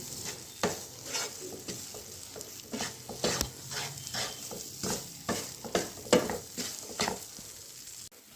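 Poha laddu mixture stirred in a pan, a spoon scraping in repeated strokes about twice a second with a soft sizzle underneath, close and steady.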